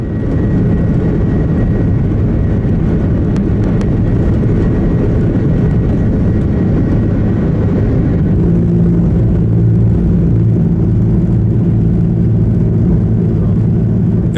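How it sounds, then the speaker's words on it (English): An Airbus A330 on its takeoff run after a bird strike damaged an engine, heard as a loud, steady low roar of jet engines that continues unbroken throughout, with a slight shift in tone partway through. "This Airbus A330 was taking off when at the last second a flock of birds struck the plane"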